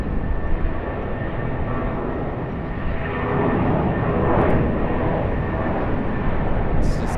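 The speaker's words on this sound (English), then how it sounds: "Jetstar Airbus A320." A Jetstar Airbus A320 jet airliner at Sydney Airport gives off a loud, steady engine roar that swells slightly midway and carries on with no talking.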